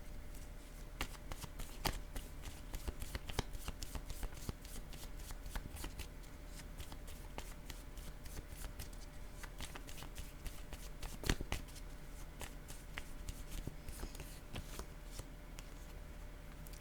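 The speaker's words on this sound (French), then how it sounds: "Je vais déposer une carte sur humilier." Tarot cards being shuffled and laid down one by one, a steady papery riffling with sharp slaps and flicks recurring through a quiet room, close and fairly soft, with no talk.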